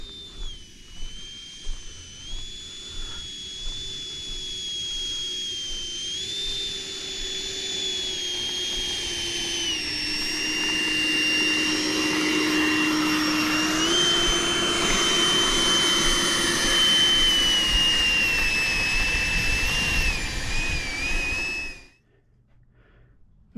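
A Freewing F-4 Phantom RC jet whines steadily overhead, its high turbine-like tone sliding in pitch as it passes, loud and sustained before cutting off abruptly near the end.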